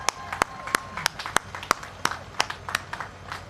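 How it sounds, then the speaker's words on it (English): A small outdoor crowd at a train welcome event in Altoona, Pennsylvania, gives a loose round of sharp, distinct claps, about ten spaced unevenly over a few seconds, with faint murmuring talk underneath. "Why don't we give a nice little clap to Ed"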